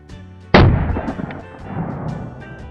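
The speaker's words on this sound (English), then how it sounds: "I'm glad that's the last time I have to shoot this fucking gun." A large revolver fires a single shot, a close, loud blast with a sharp onset and a rumbling decay that fades over about two seconds.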